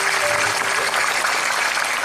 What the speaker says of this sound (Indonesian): Sekali lagi tepuk tangan untuk beliau teman-teman kita dari.